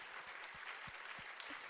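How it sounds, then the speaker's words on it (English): An audience applauds at a World Food Day event on food as medicine, a steady wash of clapping that holds for under two seconds and swells slightly at the end. "Give him a round of applause, please."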